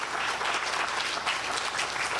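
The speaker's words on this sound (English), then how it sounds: "Another round of applause for our panelists." A seated audience at an alumni career panel gives the panelists a round of applause, a dense, continuous clatter of many hands clapping close by.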